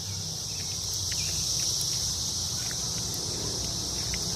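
A chorus of cicadas in June woodland, a loud continuous high-pitched buzzing drone that fills the air steadily, with a few faint bird chirps in the background.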